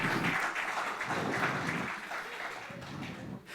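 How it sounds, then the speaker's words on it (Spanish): A church congregation applauds steadily during a sermon, a dense, sustained wash of many hands clapping that tapers slightly toward the end. "Entonces, un aplauso para el espíritu,"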